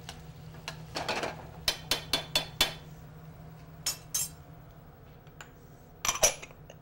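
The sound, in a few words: stirring macaroni dishes in a pan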